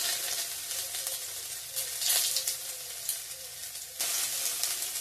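Ginger sizzles and fries in a hot pan with whole cumin seeds, a steady close crackling hiss with a few brief louder bursts as it settles into the oil.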